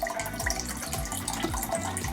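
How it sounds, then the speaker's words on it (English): Room-temperature water pours into a glass jar for growing dinosaur crystals, a steady close splashing gurgle that runs unbroken for about two seconds with no voices. "But I'm gonna add the cold water now, our room temperature, to the top."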